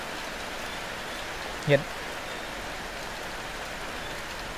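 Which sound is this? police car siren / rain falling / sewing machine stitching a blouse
rain falling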